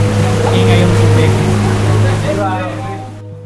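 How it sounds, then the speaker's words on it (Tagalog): Loud, steady rush of water echoing inside Soliman Cave, a pitch-black cave at Labas Bantong, with a person talking over the roar throughout. "Ewan ko kung narinig pa ako kasi maingay yung tubig"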